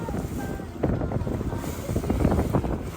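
A boat heads out on the water near Kundapura, its engine rumbling low beneath heavy wind buffeting the microphone, with a steady, rushing noise and no clear speech.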